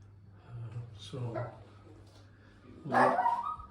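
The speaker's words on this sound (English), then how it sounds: "Oh, the dog is barking its head off." A pet dog barks and whines outdoors by a shed, a few separate yelps with one louder bark near the end, moderately close.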